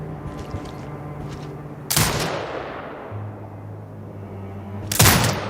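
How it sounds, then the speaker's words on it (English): A drone-mounted turret fires in the sniper game Sniper Ghost Warrior Contracts 2 with two loud, sharp booming shots a few seconds apart, each trailing off into a rumbling decay over a low steady hum. "Exit binocular mode and command the turret to fire."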